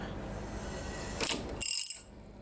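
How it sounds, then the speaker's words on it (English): A ratchet on a 19 mm socket turns the crankshaft of a Honda K20 engine by hand, giving a brief, close burst of rapid pawl clicks over a low mechanical hum. "Now, let's turn over the crankshaft, see how it all feels."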